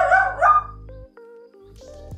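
A dog gives a few short vocal yips and barks at close range early on, followed by quieter household sounds.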